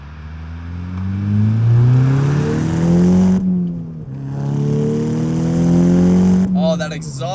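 Tuned 325 hp VW Golf R with a 2-liter turbo engine revs hard through its exhaust, pitch sweeping up twice in long loud climbs with a brief dip between, ending in a higher whine.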